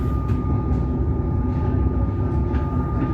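Melbourne suburban train pulling into St Albans station, a steady loud rumble of wheels and carriage noise with a continuous tonal whine running throughout, heard from inside the train.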